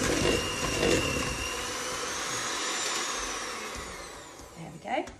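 An electric mixer whirs faintly in the background while stirring chocolate chips into peanut butter cookie dough, with the motor fading off near the end.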